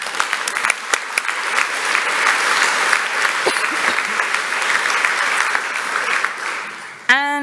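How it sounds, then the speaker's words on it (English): Conference audience claps for the session's speakers after a tech talk, a steady, moderately loud round of applause that holds for about seven seconds before fading, followed by a voice starting to speak. "I think we should just give a round of applause to all our speakers again"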